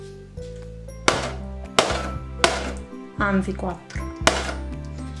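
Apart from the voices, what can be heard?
knife piercing holes in cling film over a bowl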